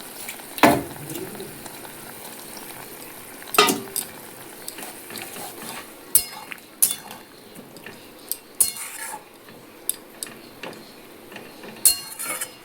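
A curry of two kinds of mustard and green chili paste boils in a pan with ridge gourd and lentil dumplings, soft bubbling broken by sharp, irregular clinks of a spoon against the pan.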